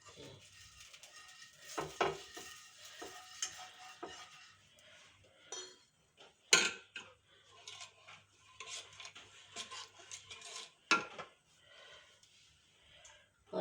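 A utensil scrapes and clinks across a pan while spreading for an onion dosa, sounding as scattered soft scrapes and a few sharp taps, with quiet talking in between.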